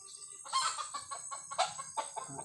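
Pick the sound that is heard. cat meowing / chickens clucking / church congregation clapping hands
chickens clucking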